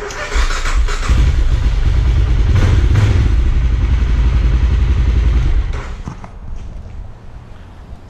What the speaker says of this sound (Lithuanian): tai variklis dirba